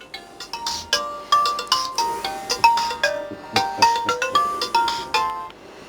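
A basic budget mobile phone plays a melodic ringtone of bright, plinking chime notes in a steady repeating rhythm, clear and fairly close throughout, with no talk over it.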